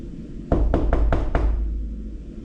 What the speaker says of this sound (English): So I would just knock on the window